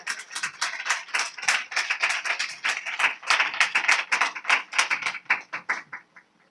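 A church congregation at Sunday worship claps loudly in quick, uneven bursts, many hands together, continuous for several seconds with no voices.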